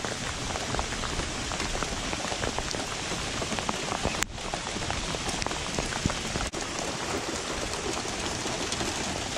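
Heavy rain pouring onto a lake during a thunderstorm, a dense, loud, unbroken hiss of drops hitting the water and surfaces nearby.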